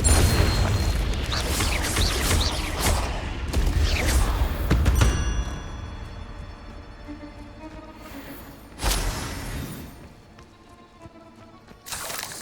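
Confringo, the fiery blast spell in Hogwarts Legacy on PS5, goes off as a series of loud, booming explosions with crackling debris. A final burst follows after a quieter stretch, and no one speaks.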